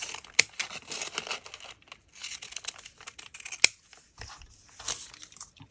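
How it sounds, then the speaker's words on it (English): Scissors snip and crinkle through paper while a paper bag is being made, a run of quiet close crisp cuts and rustles with no talking. "I'm going to use these scissors"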